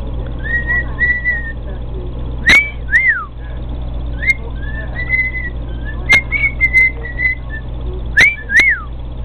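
A person whistles short rising and falling tones several times over a steady low background hum, with a few sharp clicks between the notes and talk in the background.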